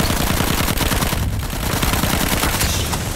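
Rapid machine gun fire rakes the player's aircraft in an aerial combat video game, a loud, dense, continuous rattle of bursts sustained throughout without pause.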